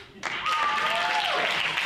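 Comedy club crowd at the Historic Roxy Theatre breaks into applause after a brief pause, a broad, steady wash of clapping that stays loud and even to the end, with a voice faintly sustained above it.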